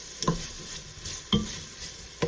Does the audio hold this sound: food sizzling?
yes